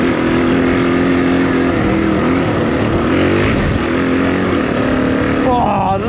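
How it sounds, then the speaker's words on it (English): Suzuki DRZ400e dirt bike ridden hard through puddles, its engine droning loud and steady close by with rising revs and watery splashing, a brief voice near the end. "Oh, I love popping that front wheel up through the puddles."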